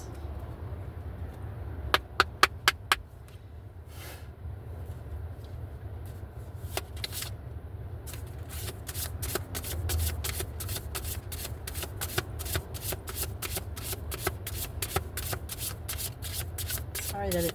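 An oracle card deck, Woodland Wardens Oracle, is shuffled by hand in quick bursts of crisp riffling clicks, sparse at first and then dense and rapid, close up against a low steady background hum.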